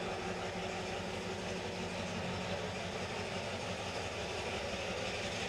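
Steady rumble and rattle inside a moving passenger train bound for Bangkok, continuous wheel and carriage noise at a low, even level with no talk.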